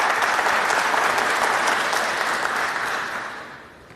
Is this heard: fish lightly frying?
no